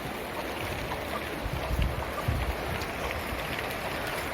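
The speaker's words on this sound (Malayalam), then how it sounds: "മഴ നല്ല പെയ്ത് വരുന്നുണ്ട്" Continuous rain patters steadily, a dense even hiss with a few low thumps, no voices.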